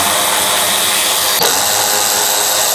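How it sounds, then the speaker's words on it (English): A powered screwdriver with a T15 bit backs out the tail light lens screws on a Chevrolet Colorado or GMC Canyon, a loud steady motor whine with a brief catch midway. "go ahead and remove both of these screws."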